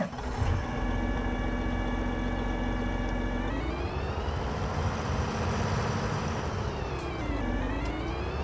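A John Deere ride-on mower engine running on grass, a steady droning hum that dips in pitch around the middle, rises again, then drops and recovers once more near the end.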